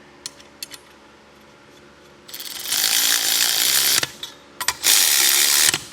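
Ratchet wrench torquing rocker arm studs down on a Chevy engine during a motor rebuild: after a quiet start with a few small clicks, two loud bursts of rapid ratcheting clicks, close up, with no talk.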